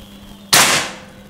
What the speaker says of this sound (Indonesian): Dan untuk tembakan yang ketiga